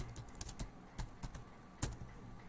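Light typing on a computer keyboard produces irregular soft key clicks, a few quick taps clustered together then pauses, close and quiet in a still room without talk.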